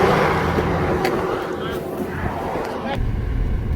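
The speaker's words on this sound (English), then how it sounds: "you couldn't hear me probably because all the traffic noise" Street traffic rumbles steadily, with vehicles droning and passing close by, beneath a person talking over it for a few seconds.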